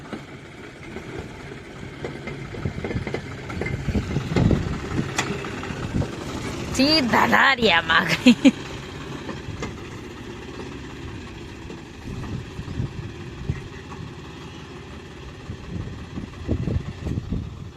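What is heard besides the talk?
tractor engine arriving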